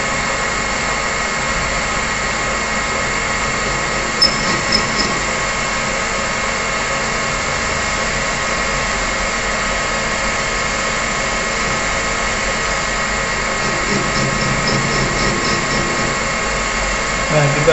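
A metal lathe runs with a steady, droning motor hum throughout as the cutting tool is brought against the workpiece, with a voice talking over the machine.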